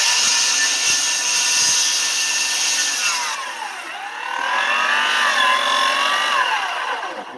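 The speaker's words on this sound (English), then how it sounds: "You can hear the saw's already working, and that's because the wood is binding on it" A power saw plunge-cuts through wet pressure-treated wood while building a staircase, a loud steady whine that strains and drops in pitch mid-cut as the blade binds, then climbs back up.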